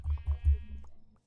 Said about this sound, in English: a couple of sheep just randomly died in front of me